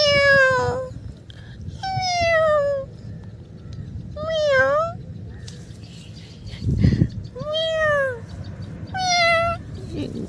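A cat meows repeatedly at close range, five or six distinct cries with short pauses between them, over faint background noise.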